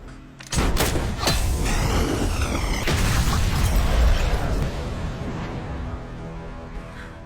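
Grenade explosion in the Batman v Superman film: a sudden loud blast after a brief quiet start, followed by a long rumbling roar with debris crackle that slowly fades.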